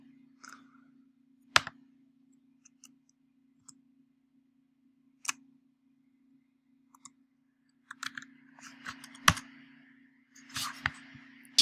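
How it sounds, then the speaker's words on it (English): Sparse, irregular clicks of keys on a computer keyboard in a quiet room, with a few sharp isolated taps and then a short busier cluster of typing over a low steady hum. "I'll just type it."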